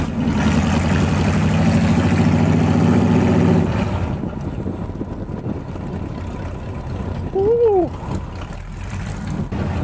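Ford V8 hot rod engine running, loud and steady for the first four seconds, then settling into a quieter idle in neutral, with brief speech-like tones and background noise over the low rumble.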